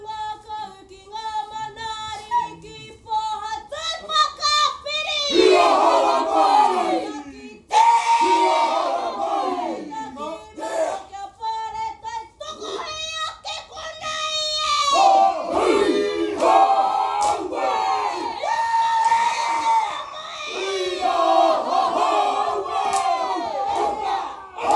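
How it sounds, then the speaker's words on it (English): A Māori kapa haka group in New Zealand performs loud, rhythmic chanting and fierce shouted calls, voices rising and falling in bursts with short pauses between phrases. "The sound of kapa haka bringing back many memories for me of my early years in New Zealand."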